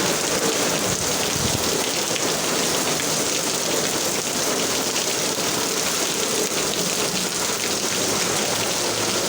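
Loud, constant downpour with drops drumming on nearby surfaces and a low rumble underneath, unbroken from start to finish.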